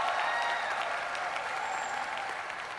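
Studio audience applauding a guest artist on a Thai televised singing contest stage, a steady dense clapping that holds at even strength throughout, with crowd noise beneath.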